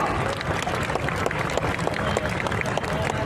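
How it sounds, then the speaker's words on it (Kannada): A large audience at a live Kannada stage event in Jayanagar claps steadily, a dense, continuous wash of hands that holds loud and even from start to finish. "ಇನ್ನೂ ಜೋರಾದ ಚಪ್ಪಾಳೆ ಕೇಳಿಸ್ಬೇಕು"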